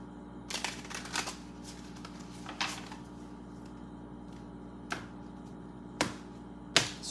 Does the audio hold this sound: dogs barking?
no